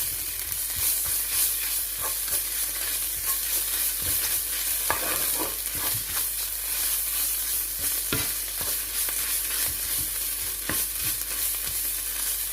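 Tomato and pepper paste fry with onions in olive oil for okra stew, making a steady, even sizzle under regular stirring scrapes and light taps of a spoon, close and continuous.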